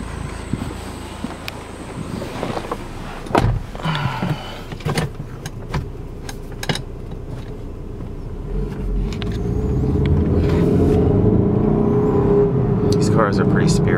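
A 2004 Saab 2.3T sedan pulls away on a short drive, with clicks and a whirring power window at first, then the engine and road noise rising steadily while someone talks throughout.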